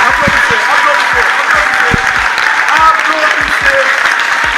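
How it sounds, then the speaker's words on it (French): An audience at a church service applauding, dense and continuous clapping throughout with a voice speaking over it. "Applaudissez, applaudissez, applaudissez, applaudissez,"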